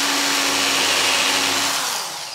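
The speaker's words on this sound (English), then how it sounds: "I put a little bit in the previous hole, I drill the next hole." Power drill boring holes through plywood guided by a fixed template while stitching a canoe for a proa build; a loud, steady whirring drone runs throughout, easing slightly at the end.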